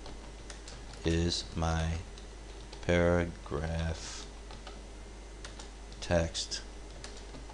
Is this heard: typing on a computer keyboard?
yes